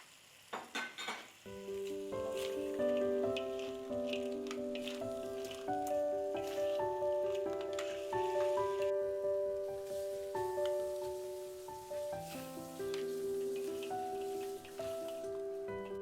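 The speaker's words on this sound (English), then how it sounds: "add in the coriander and spring onion and stir until the crabs are fully cooked" Crabs stir-fry with coriander and spring onion for Singaporean black pepper chili crab, giving a steady sizzle with occasional stirring scrapes under louder melodic background music.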